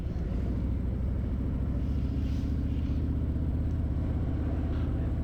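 A steady low engine rumble rolls on without pause as a motorcycle rides through downtown Pictou, Nova Scotia, sounding close and constant with no breaks in the drone.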